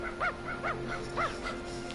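Dog in the Dragon Quest Builders 2 video game barking in three or four short, clipped yips spaced across two seconds over a steady game music hum, with no talk.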